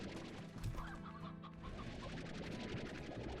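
Hens clucking in the Slime Rancher video game, a busy overlapping chorus of short clucks and squawks from several birds, close and fairly loud, continuing throughout with no talking.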